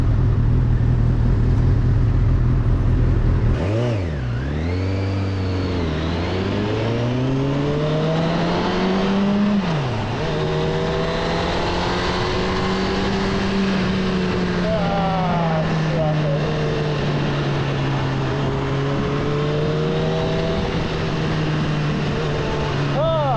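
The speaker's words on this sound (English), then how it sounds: "This is what commuting on a motorbike's all about." A Honda CB1000R motorcycle rides through Edinburgh traffic, its engine droning loud and close with repeated revs rising and falling as it accelerates and changes gear, under steady wind roar.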